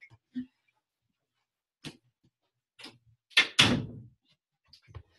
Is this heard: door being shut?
yes